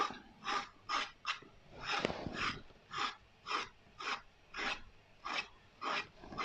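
Rhythmic rasping strokes of a vegetable being scraped, about a dozen even scrapes close up and fairly loud, with one brief heavier knock partway through, no talking.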